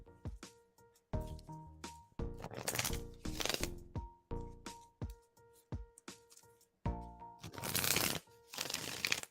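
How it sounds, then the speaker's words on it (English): Tarot cards being shuffled in repeated bursts of crisp riffling and soft slaps, close and fairly loud, with brief pauses between shuffles and no talking. "Shuffling now for you."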